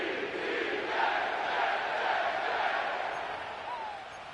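A stadium crowd in an EA Sports football video game cheers steadily as a loud, sustained roar with a few rising shouts on top, holding at a constant level throughout.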